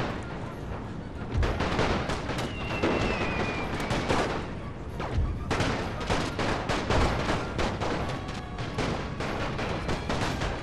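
Booming artillery and crackling rifle fire fill a World War I strategy game battle on the Romanian front, a steady, dense barrage of overlapping shots and thuds with a few whistling shells, continuous throughout with no voices.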